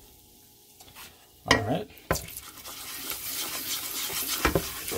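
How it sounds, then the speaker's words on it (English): Curry browns in hot oil as it is stirred in a pot for Jamaican-style cow's foot: crisp sizzling builds steadily under sharp scraping strokes of the spoon, with a brief remark spoken early on. "So this is how you brown your curry to ensure maximum flavor"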